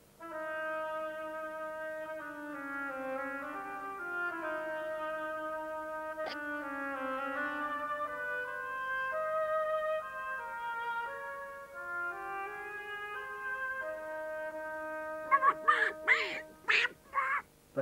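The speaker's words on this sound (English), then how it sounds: "The duck by the oboe." Solo oboe playing the duck's theme from Prokofiev's Peter and the Wolf, a slow, nasal, reedy melody with sustained tones over soft orchestral backing, then a brief burst of louder, brighter orchestral accents near the end.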